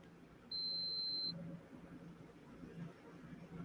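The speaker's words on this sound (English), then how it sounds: "it just keep beeping because I touched something" A single electronic beep from a device, set off by a touch, holds one steady, piercing tone for under a second over a low background rumble.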